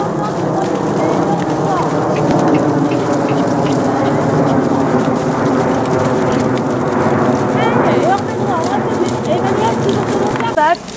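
Horse trotting in a dressage arena, with steady rhythmic hoofbeats on the footing running throughout while people talk over them.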